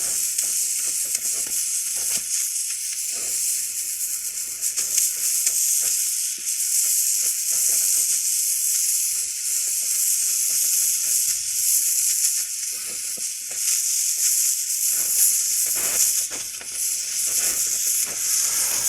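An oxy-acetylene torch heats a steel piece until it glows red hot before welding, a steady loud roaring hiss with crackling sizzle running continuously and alone throughout.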